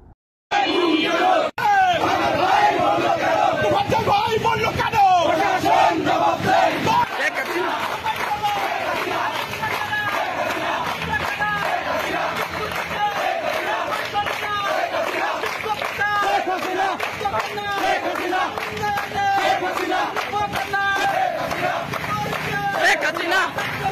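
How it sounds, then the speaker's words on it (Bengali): A street protest march in Gopalganj, Bangladesh, with a loud, dense crowd chanting slogans in rhythmic unison, voices close and continuous throughout after a brief silent start. "সারা দেশে নিরীহ মানুষ হত্যা ও আওয়ামী লীগের নেতাকর্মীদের বিরুদ্ধে মিথ্যা মামলার প্রতিবাদে বিক্ষোভ মিছিল।"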